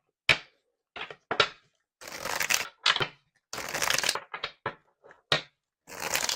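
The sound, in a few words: shuffling a deck of tarot cards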